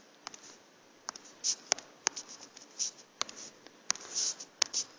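Chalk or marker taps and scrapes on a board during a calculus lecture, a sparse irregular series of sharp clicks and short strokes, fairly close against a quiet room.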